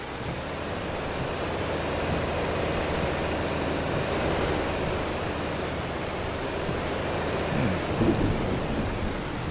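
Steady, heavy rain and rolling thunder in the farming video game Farming Simulator 25, heard as a continuous dense wash with a low rumble throughout and a slight swell near the end.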